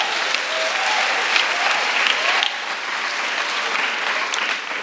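Steady applause from a church retreat audience, many hands clapping continuously at moderate distance for about five seconds, with no voices over it.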